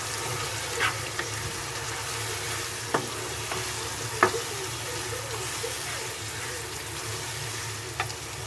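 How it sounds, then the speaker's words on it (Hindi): Spices are stirred into capsicum beef qeemah in a pan, a steady close frying sizzle with a low rumble underneath, punctuated by occasional scraping knocks of the spoon against the pan. "मैंने इसमें सारे मसाले ऐड कर दिए और इसे अच्छे से मिक्स कर लेंगे"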